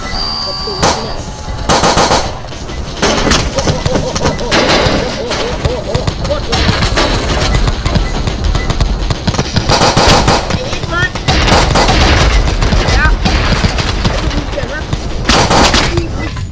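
Heavy video-game gunfire pours out in loud, near-constant volleys of rapid shots for about sixteen seconds, with excited talking over the shooting.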